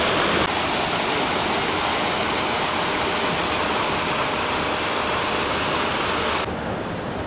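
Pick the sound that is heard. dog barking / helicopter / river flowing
river flowing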